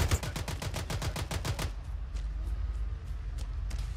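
Automatic gunfire in Arma 3 rattles off in a rapid, loud burst of a dozen or so shots for over a second. A few scattered single shots follow against a low rumbling background.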